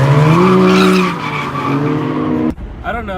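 A Cherry Red Pearl Nissan S13 hatch slides with loud, sustained tire squeal over a straining engine, cutting off sharply before a brief softer tail; a voice may sit faintly underneath.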